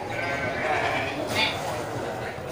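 A small, dwarf-sized billy goat bleats at a livestock market in the week before Eid al-Adha, with animal calls mixed under nearby voices talking.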